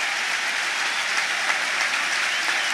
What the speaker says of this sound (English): Gets a big round of applause.